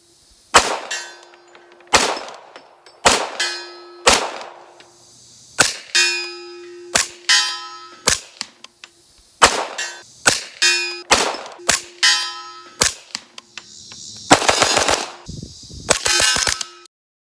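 Gunshots from a CMMG Banshee short-barreled rifle chambered in .45, fired as a string of sharp, loud reports spaced about a second apart, each with a ringing metallic tail, ending in a quick cluster of shots.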